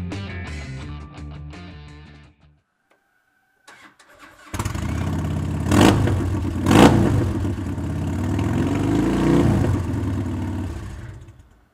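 A 2006 Harley-Davidson FLHRI Road King motorcycle cranks with a few clicks, pauses, then fires up into a loud rumbling idle with two sharp throttle blips, heard up close and alone.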